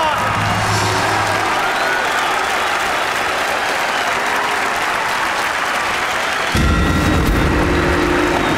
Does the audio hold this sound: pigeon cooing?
no